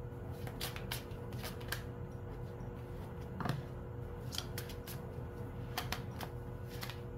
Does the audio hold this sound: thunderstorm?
no